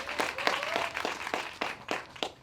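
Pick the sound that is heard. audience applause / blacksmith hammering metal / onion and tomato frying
audience applause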